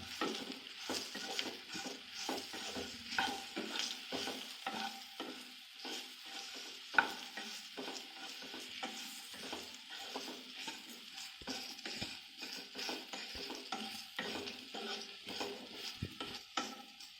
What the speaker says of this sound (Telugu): సన్న మంట మీద వేగనివ్వాలి